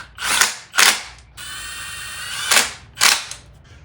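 Loud ratchet bursts tightening bolts on a Saab 9-3 2.0T ECU relocation kit, four short rapid clicking runs close up, with a brief whirring spin between them.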